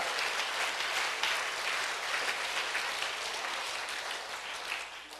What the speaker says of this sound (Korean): 자, 박수로 주님께 영광 돌립니다.